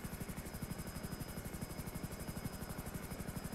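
Helicopter in a GTA roleplay video game, its rotor thumping in a fast steady pulse with a constant engine whine, loud and close throughout with no talk.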